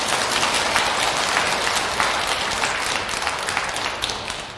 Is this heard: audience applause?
yes